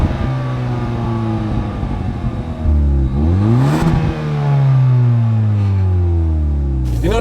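A 2017 Kia Soul Turbo, front-wheel drive, accelerates hard with its engine revving loudly, the pitch climbing through the gears in a few sweeping rises and dips, close and continuous with no talking.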